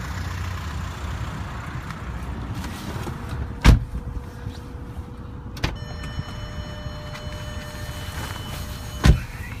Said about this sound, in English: Let's take you on a quick test drive.